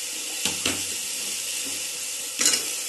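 Potatoes and peas frying in a pan give a continuous, fairly loud sizzle, broken by two or three clattering knocks of a spoon against the pan as they are stirred.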